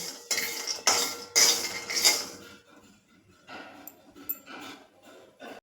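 A spoon scrapes and clinks against a pan while stirring sugar melting for caramel almonds, several close rhythmic strokes, then quieter scraping.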